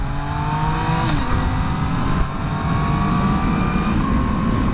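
A 2017 Yamaha FZ-09 / MT-09 motorcycle engine pulls hard under throttle on a ride, a loud, close drone that climbs in pitch, drops briefly at a shift, then climbs again, with steady wind noise over it.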